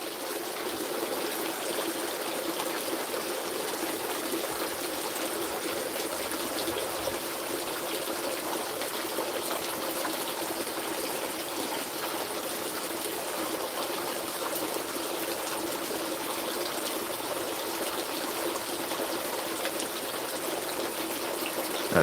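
Water trickling steadily in a sunny garden pond, a soft continuous babble that stays even and fairly quiet the whole way through, with no voices.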